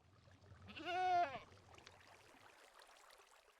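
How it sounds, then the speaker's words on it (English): A goat in a modded Minecraft game gives one short, clear bleat against a quiet background hiss, with no talking. "I'm kind of tempted to put the goat in there."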